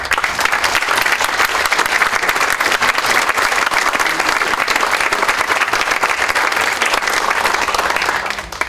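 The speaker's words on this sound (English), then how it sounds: "Let's hear a warm round of applause." A large seated audience at a Toronto lecture breaks into loud, sustained applause for the speaker, a dense steady wash of clapping lasting several seconds before tapering slightly at the end.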